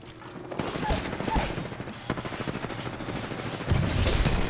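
Video game gunfire, rapid bursts of automatic shots in a dense rattling volley, loud and close, with a short pause midway before heavier firing resumes.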